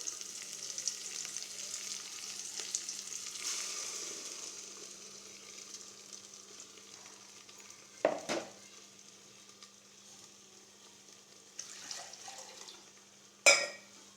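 Onion and tomato sauté in a pan for a roasted-gram tamarind curry, a soft continuous sizzle throughout with a couple of sharp utensil clinks against the pan near the end.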